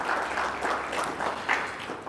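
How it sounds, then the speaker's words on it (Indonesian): Sustained applause from an audience at a formal Indonesian gathering on the strategic role of the MWA board of trustees at state universities (PTN-BH): a steady, dense wash of clapping, fairly loud and continuous, with no one talking over it. "Tepuk tangan untuk MWA kali ini."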